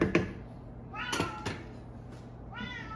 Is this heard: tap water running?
no